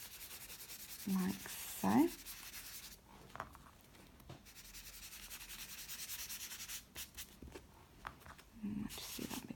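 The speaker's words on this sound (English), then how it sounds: "I take my chalks and I give it a good rub on the page where I want them" Pastel chalk rubbed across a journal page, a soft dry scratchy scraping in short close strokes, with a brief spoken phrase partway through.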